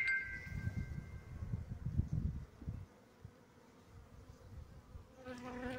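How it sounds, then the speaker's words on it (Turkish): Honeybees buzz around a hive in midday heat, a dense, steady swarm hum close by, louder for the first few seconds and then easing to a softer drone. "Öğlen sıcağında arılar daha saldırgan olur."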